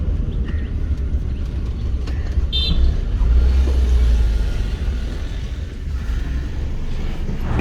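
A 1984 Nissan Sunny drives with a steady low engine rumble and road noise, swelling slightly mid-way, close and continuous with no talk.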